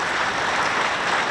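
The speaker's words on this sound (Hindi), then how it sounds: "बजाओ ताली" Applause from an audience at a yoga talk, a steady dense patter of many hands clapping together, loud and close, with no voices over it.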